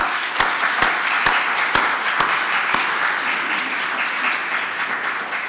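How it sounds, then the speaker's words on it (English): Sustained audience applause fills a room at a resource-sharing community breakfast, with sharp regular thuds punctuating the first few seconds before the clapping continues evenly to the end. "Give them one last round of applause."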